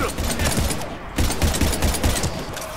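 Gunfire in the sci-fi shooter Mass Effect 3, a dense close crackle of rapid automatic shots in short overlapping bursts with a brief lull, with voices faintly mixed in.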